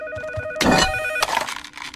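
A telephone rings in a cartoon scene, its electronic bell tones pulsing in a close, fairly loud burst of about two seconds with a brief clattering jolt partway through.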